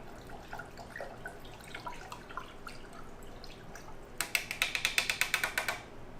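A spoon stirs CalMag into hydroponic nutrient water, a quiet watery background that ends in a quick run of bright, rhythmic clinks against the container.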